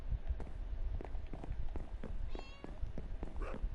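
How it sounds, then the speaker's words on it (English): Cats meowing in the Minecraft video game, with a short, thin mew over a busy bed of soft footstep-like game sounds and low background rumble. "Listen to the cats meowing their little heads off."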